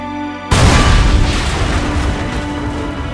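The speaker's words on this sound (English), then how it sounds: "Take one of your anti-tank grenades. That's it. Toss it onto that tank and stand back." An anti-tank grenade goes off on a tank in Red Orchestra 2: one sudden heavy boom after a short silence, then a long loud rumbling roar that stays up for several seconds.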